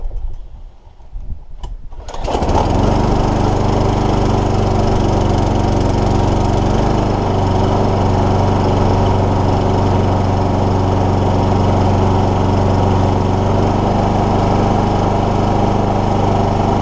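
A Briggs and Stratton SV150 engine on a Sovereign lawnmower starts after a couple of seconds of handling noise, then runs loud and close at a steady, even drone to the end.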